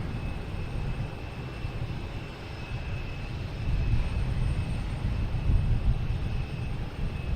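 A PAL airliner arriving from Ottawa at Boston Logan Airport makes a continuous broad jet roar that slowly swells louder, heard from a distance outdoors, with no voices.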